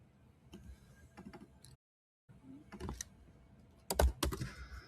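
Computer keyboard typing in short clustered bursts of key clicks separated by a brief silent gap, moderately close, with a louder cluster of keystrokes toward the end; no talking.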